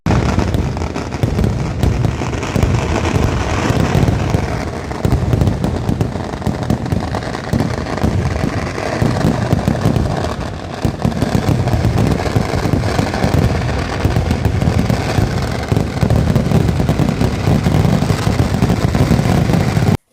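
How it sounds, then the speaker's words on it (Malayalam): A Thrissur Pooram festival sample fireworks display bursting nonstop, rapid crackling and booming explosions overlapping into a dense, loud barrage that continues throughout. "തൃശൂർ പൂരം വെടിക്കെട്ടിന് മുന്നോടിയായി ഇന്ന് സാമ്പിൾ വെടിക്കെട്ട് അരങ്ങേറി"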